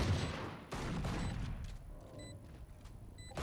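Fireworks and gunfire bursts shot into the sky in the video game Valorant during an esports match, a rapid crackling volley followed by a few sharp, spaced pops that fade toward the end.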